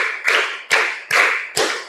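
Four crisp group hand claps sound at a steady rhythm, loud and close, as a classroom does a counted clap exercise.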